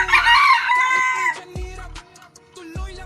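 A Cardinal Kelso gamefowl rooster crows loudly and close in a long strained call, followed by a few lower clucks and short calls.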